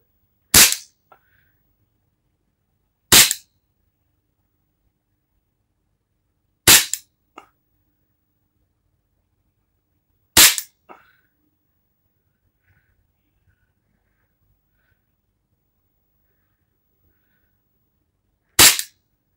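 Five sharp Taurus PT92 pistol shots fired one-handed, spaced a few seconds apart with a longer pause before the last, each loud crack followed by a brief echo.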